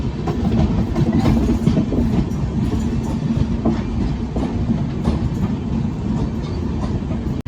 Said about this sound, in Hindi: और यहाँ पर अपनी ट्रेन ने रेस दे दिया है